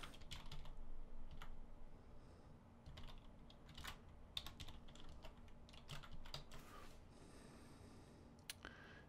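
Fingers type on a computer keyboard while editing an email, with quiet, irregular clusters of key clicks and a few sharper taps, close but faint, alone with no talk.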